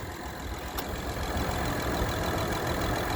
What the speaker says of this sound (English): shot of the motor with it running